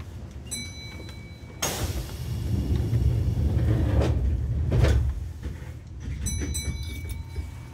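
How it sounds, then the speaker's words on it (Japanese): Doors close on a Kintetsu Minami-Osaka Line 6020-series local train bound for Fujiidera, with a sudden rushing thud followed by rumbling and a couple of sharp knocks, while faint tonal chimes sound at the start and end. "扉が閉まります。"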